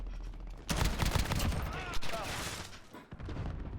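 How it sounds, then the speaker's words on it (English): A loud grenade blast in a Call of Duty match, a sudden booming burst with crackling debris that trails off over a couple of seconds amid other battle noise. "Oh, that was a grenade."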